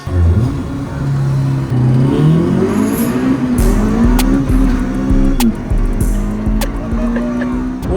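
A Honda CRX street car with a B-Series engine accelerating hard, its loud rising engine note climbing through gears with shifts, followed by sharp clicks and knocks as it runs on.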